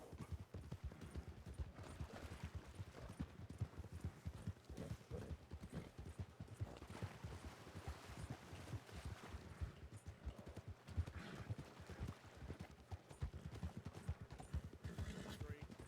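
Horse hooves clip-clop in a RedM Western role-play game, a steady irregular trot of several hooves on hard ground, moderately close, running beneath occasional voices.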